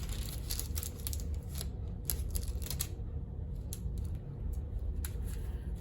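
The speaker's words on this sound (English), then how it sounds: "Take the collection paper and peel off the cover strip from the tape on each end of" A cover strip is peeled off the adhesive tape on a sheet of collection paper, giving a run of crisp crackling and ticking bursts over a low background rumble.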